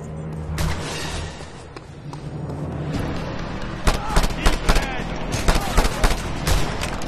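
Mounted gun firing in a Just Cause 2 stronghold assault, a dense run of loud overlapping gunshot bursts and explosive booms over a steady low rumble, with a voice shouting orders amid the battle.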